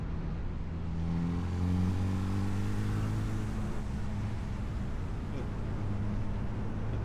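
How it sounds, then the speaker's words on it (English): Suzuki Hayabusa motorcycle fitted with a full M4 exhaust system and flash tune, riding on bends: a steady, droning engine note with slight rises in pitch, with a voice talking over it. "I've got the full M4 exhaust system on here as well"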